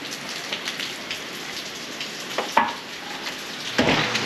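Heavy tropical rain pours in Puerto Rico, a steady close hiss of drops striking surfaces, with a few louder splashes and knocks near the end and no talk.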